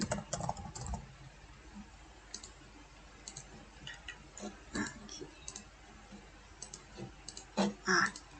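Typing on a computer keyboard, light irregular key clicks in short bursts close by, quiet overall with a few louder clusters toward the end.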